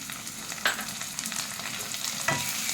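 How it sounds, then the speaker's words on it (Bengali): Ginger, green chili and garlic paste frying with onions in a pan, a steady close sizzle with a couple of stirring scrapes, loud and alone. "যতক্ষণ না আদা আর কাঁচা গন্ধটা চলে যায় ততক্ষণ এটাকে ভালো করে ভেজে নিতে হবে"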